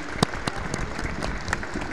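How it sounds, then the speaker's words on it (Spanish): Crowd applause at an adapted rugby match, a soft, moderately distant wash of clapping with a few sharper individual claps standing out, brief and continuous. "pido por favor un fuerte aplauso para todos los que están hoy acá visitando"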